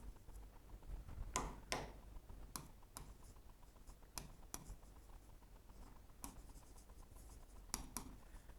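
Pen or pencil writing by hand during an anatomy lesson on the nervous system, heard as sparse, quiet scratching strokes in short bursts over a low background hum, with no talking.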